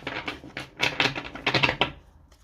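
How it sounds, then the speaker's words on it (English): Quick bursts of crisp, papery shuffling of tarot cards close by, several rapid riffles in a row with short pauses between, no voices. "One more shuffle."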